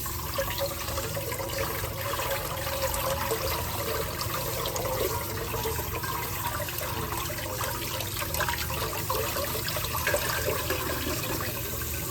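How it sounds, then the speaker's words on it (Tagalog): Cold water runs steadily from a tap onto cooked macaroni with a continuous splashing hiss, close and fairly loud throughout. "Gasa natin ng malamig na tubig."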